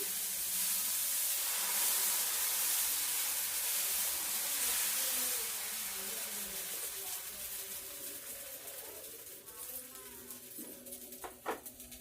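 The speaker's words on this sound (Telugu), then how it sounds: "రెండో దోశ వేస్తున్నాను" Dosa batter spread onto a hot griddle pan, a broad steady sizzle and hiss that stays loud for several seconds, then fades and thins out, with a few small clicks near the end.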